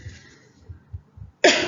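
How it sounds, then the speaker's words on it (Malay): A single short, sharp cough bursts out loudly right at the end, after a stretch of soft low breathing and murmuring sounds. "Sorry, rasanya video kali ni banyak batuk kot."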